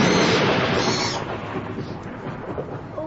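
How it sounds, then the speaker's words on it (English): A loud crack of thunder opens a storm and rolls into a long, fading rumble, with rain hissing underneath. "That storm's getting worse."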